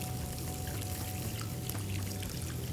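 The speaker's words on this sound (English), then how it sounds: "next goes in the vegetable stock over here" Vegetable stock poured into a pan of chunky mushroom soup, a steady liquid pour with a soft continuous wash running the whole time under low cooking noise.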